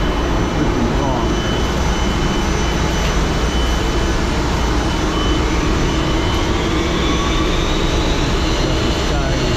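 Electrical generator in the engine room of the Sea Cloud Spirit sailing ship runs with a loud, dense, unbroken mechanical roar and whine that fills the space without pause.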